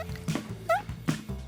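A voice imitates an ant farting, producing a short burst of squeaky, rising and buzzy mouth noises, close and loud, alone with no other sound.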